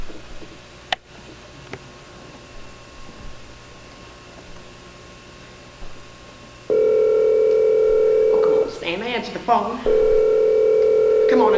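Telephone dial tone followed by quick dialing tones, first a faint hum with a few ticks, then a loud steady tone cut by a burst of touch-tone beeps before the tone returns.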